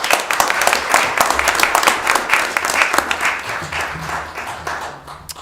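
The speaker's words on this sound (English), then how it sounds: "Another round of applause for our Lewiston leaders" Sustained applause from a city council meeting audience in Lewiston, many hands clapping in a dense, rhythmic patter that swells then gradually thins out, with a low murmur of voices underneath.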